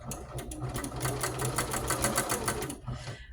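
A sewing machine with a walking foot stitches a pant hem in light gray thread with a steady, fast mechanical chatter that runs evenly for about three seconds and then slows to a stop.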